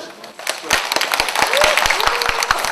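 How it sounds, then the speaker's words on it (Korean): Applause for three panelists at a Korean panel discussion forum on emotional education, starting faint and swelling into steady clapping with sharp individual claps standing out, a voice talking over it. "마지막으로 세 분 후보해 주신 패널 분들께 박수"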